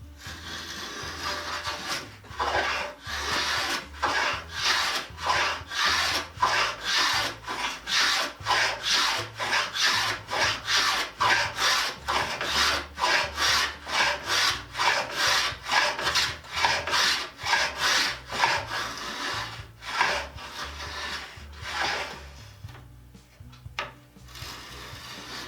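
A Record 44 plough plane cuts a groove in a pallet board with steady, rhythmic rasping strokes of wood shaving, close and fairly quiet, about two strokes per second, slowing and stopping near the end.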